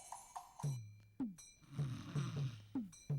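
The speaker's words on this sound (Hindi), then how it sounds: "तू इस तरह से खर्राटे लेगी तो मैं कैसे सोऊंगा?" Repeated snoring-like snorts and rumbles, several short bursts in an irregular rhythm, fairly close and quiet, with no talking.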